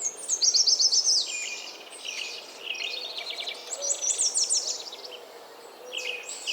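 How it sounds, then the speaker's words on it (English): A dawn chorus of goldfinch, flycatcher, common grackle and Bullock's oriole, with bright high trills and chattering phrases repeating in overlapping bursts, fairly close over a quiet background. "A common grackle is calling harshly, and one of the bullock's orioles that nest here has begun singing."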